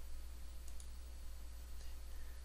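Two faint, crisp computer mouse clicks, the second about a second after the first, sit over a steady electrical hum while someone works in PADS circuit design software.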